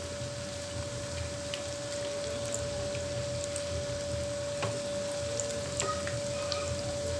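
Poha sweet cutlets fry gently in oil in a pan, giving a soft, steady sizzle with scattered light pops and a faint tonal hum in the background.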